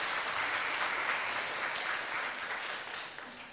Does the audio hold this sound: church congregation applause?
yes